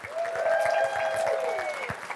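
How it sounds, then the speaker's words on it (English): An audience applauds the inductees at a 2023 athletics hall of fame induction ceremony, with continuous clapping and a few faint cheers or whistles threaded through. "How about a nice round of applause for our 2023 Nashua Athletics Hall of Fame inductees?"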